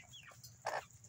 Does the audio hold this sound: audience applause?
no